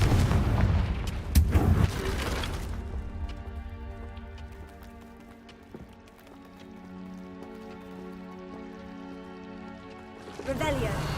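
A Confringo fire-blast spell is cast in the Hogwarts Legacy video game, with a loud burst and crackling impacts in the first few seconds followed by sustained tonal game music and ambience and a second swell near the end.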